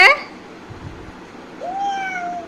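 A child imitates a cat's meow with a single drawn-out, rising-then-falling vocal mew that follows a brief adult prompt at the start, recorded close and fairly clear.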